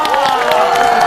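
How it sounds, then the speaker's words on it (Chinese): A live studio audience at a comedy talk show breaks into sustained applause and cheering, with a dense wash of clapping and scattered whoops filling the whole moment. "再次掌声送给郭碧婷"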